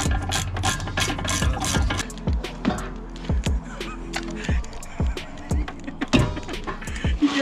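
Ratchet clicking in short bursts while bolts are tightened on a big brake kit for a 2005–2014 Ford Mustang, close and fairly quiet, with tool clatter and pauses between the bursts.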